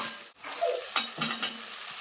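Spice masala for a pangas fish curry being sautéed and stirred in a pan, with a few quick scraping strokes and light clinks over a soft sizzle, brief and close.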